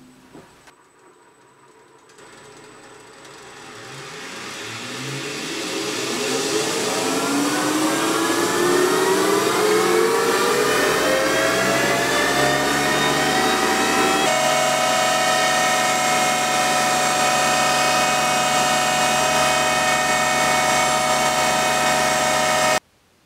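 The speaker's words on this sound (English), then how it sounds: "This means this machine is capable of running from 50 up to 5000 RPM" A high-speed lathe rated from 50 to 5000 RPM spins up from near silence, its whine rising steadily in pitch over several seconds, then holds a loud, steady high-speed drone before cutting off abruptly.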